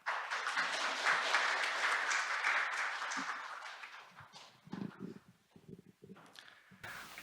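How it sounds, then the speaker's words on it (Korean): Audience applause at a pharmaceutical and biotech industry business briefing, a steady broad clapping that fills the room for about four seconds, then thins out and trails off into a few scattered claps and shuffling. "큰 박수 부탁드립니다."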